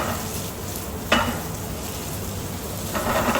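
Spaghetti carbonara with cream stir-fried in a pan, giving a steady close sizzle and hiss with a sharp scrape or toss near the start and a louder swell of frying toward the end, no talking.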